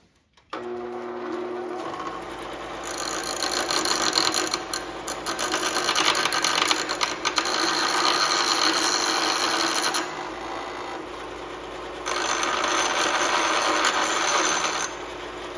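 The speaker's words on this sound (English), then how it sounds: "You're just grinding away just a little bit." Grinding a notch on a front brake part of a 2018 Chrysler Pacifica, a close, continuous buzzing grind in several long passes with brief drops in level between them, no talking.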